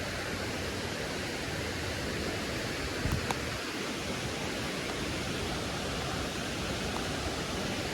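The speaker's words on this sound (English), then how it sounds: "All right, so this is one waterfall" Waterfall at Cedar Falls, a broad, steady roar of rushing water heard close, constant and unbroken, with a couple of faint brief clicks near the middle.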